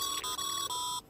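Die Hardman's codec ringtone from the video game Death Stranding: a bright, electronic tonal chime sounding in three short repeated pulses with brief gaps, fairly quiet and clean.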